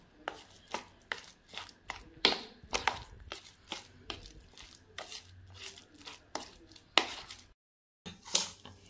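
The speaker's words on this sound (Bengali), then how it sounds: "এখন মিক্সড করে নিব" Paneer mixture being mixed and mashed by hand, giving a run of repeated wet squishing and pressing strokes in an irregular rhythm, close and fairly loud, with a brief pause near the end.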